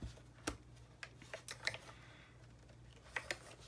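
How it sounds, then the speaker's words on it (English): A Stampin' Up Cut and Emboss mini machine cranked by hand, giving scattered faint clicks and ratcheting ticks at irregular intervals over a low steady hum, with no voice. "I'm gonna go ahead and run this through the Stampin' Cut and Emboss machine"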